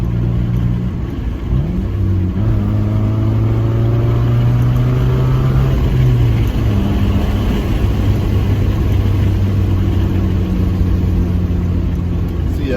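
Car exhaust drones steadily while driving, a loud continuous low rumble with gentle pitch rises as the engine accelerates and eases, heard from inside the moving car with faint voices underneath.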